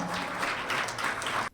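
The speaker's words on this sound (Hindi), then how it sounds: "तालियों की गड़गड़ाहट से उनका मनोबल बढ़ाएं" Applause from an audience at a lamp lighting ceremony, a dense burst of clapping that holds steady for about a second and a half and then cuts off abruptly.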